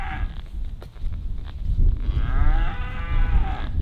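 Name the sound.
cows mooing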